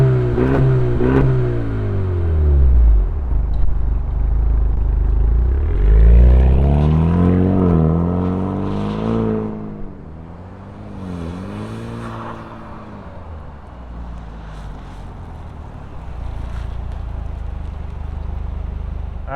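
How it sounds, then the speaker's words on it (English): A 2024 Ford Mustang EcoBoost fitted with a Ford Performance exhaust fires up close by, its engine swelling through rising and falling revs before settling into a steady, throaty idle. "we got the Ford Performance exhaust, let's fire it up and hear what it sounds like"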